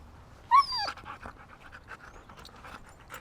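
A Siberian husky named Bruno on a leash walk gives a sharp, brief whine and then quick, soft, rhythmic panting close by, with faint outdoor background and no talking.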